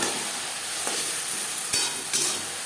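Onions sizzle steadily in a hot pan as a spice paste of onion, garlic, ginger and green chili goes in, with a broad continuous hiss and a few brief stirring knocks.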